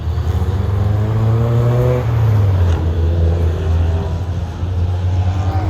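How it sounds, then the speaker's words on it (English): Race cars circling a wet track in the rain, engines droning loud and steady with rising and falling revs as several cars pass close by, no talking over it. "Got a lot of other cars on the track over here, as you can see."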